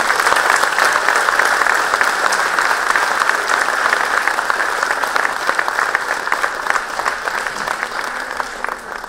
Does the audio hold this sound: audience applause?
yes